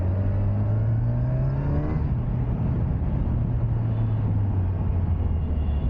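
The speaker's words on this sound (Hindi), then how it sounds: "look at that मायबाक S680, the holy grail of comfortable cars," A Mercedes-Maybach S680 luxury car drives by close, its engine hum sliding down in pitch as it passes, with steady road and tyre noise and no talk.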